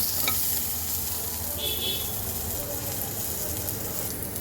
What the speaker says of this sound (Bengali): দু তিন মিনিট ভাজবো খুব বেশি ভাজবো না